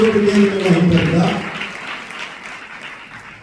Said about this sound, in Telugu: అందరం చప్పట్లు కొట్టి దేవుని మహిమపడతాం